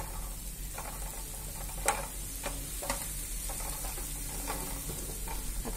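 Ingredients for mint rice fry in a pan with a steady, soft sizzle, broken now and then by faint clicks and scrapes of stirring.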